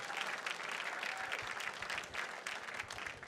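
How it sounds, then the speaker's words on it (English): At a fundraising gala, the audience claps in a sustained round of applause for lead supporters, the clapping fairly faint and distant but continuous. "How about a big round of applause for our lead supporters, the Draves?"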